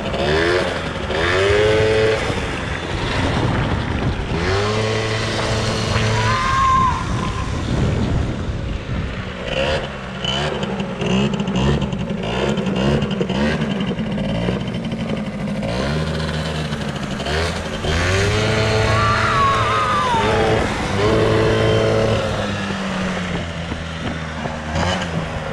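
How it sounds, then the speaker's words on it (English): Bombardier DS-50 quad engine revving under throttle, a loud buzzing idle that climbs and falls in repeated revs over a long stretch, close by with no talk. "Give it a little throttle."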